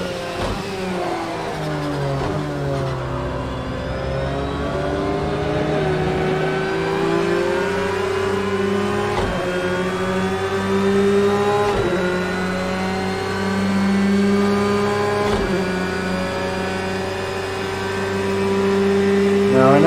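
Porsche 911 GT3 R race car engines in the racing game Project Cars 2, a continuous close, whining drone with shifting pitch as revs rise and fall, punctuated by brief gear-shift dips, with no talking.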